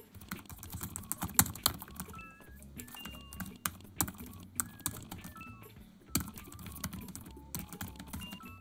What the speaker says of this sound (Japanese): タイピングに関してもかなり打ちやすいです